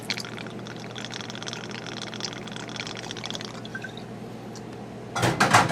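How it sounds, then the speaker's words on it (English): Captain Morgan spiced rum pours in a steady, close trickle into a mug for a holiday cocktail, running for several seconds before a louder clatter at the end. "You're going to pour 2 ounces of Captain Morgan's in there."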